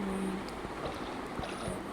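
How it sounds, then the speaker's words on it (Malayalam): Steady broadband water and motor wash from a boat ride on open water, continuous and fairly loud with faint scattered knocks and splashes, no voices. "നമ്മൾ ബോട്ട് റൈഡ് ചെയ്യാൻ പോവാണ്"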